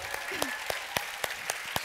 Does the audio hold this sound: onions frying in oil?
no